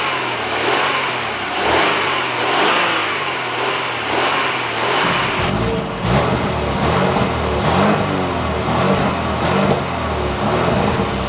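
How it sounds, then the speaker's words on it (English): A 2025 Audi Q5 S-Line with a 2-liter four-cylinder engine revs loudly and close, surging in repeated rises then settling into a rougher, pulsing throttle pattern with no voices. "Here's the sound of this beast."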